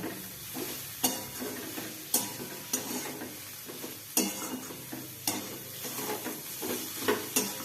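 A spiced stuffing for fulcopi (cauliflower) parota stirred and fried in a pan, with repeated sharp scraping strokes of a spatula over a steady sizzle, close and moderately loud.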